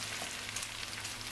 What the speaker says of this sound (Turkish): Hafiften kızartmanız bu şekilde yeterli.